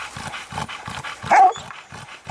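Hunting dog on a hog hunt barks and yips in a quick repeated rhythm, fairly close and loud, with one higher whining cry partway through and no talk.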